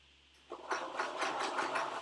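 A domestic sewing machine starts up and runs steadily, stitching the lining of a ball dress, its close, even mechanical whir lasting about a second and a half.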